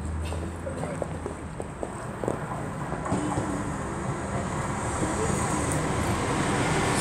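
A train rumbles through Cradley Heath station near a level crossing with a steady low roar and scattered clacks and knocks, growing louder and denser as it approaches, faint voices in the background.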